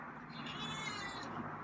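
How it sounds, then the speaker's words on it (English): A feral cat gives a single drawn-out meow, quiet but close, lasting about a second. "Wow, now you're meowing."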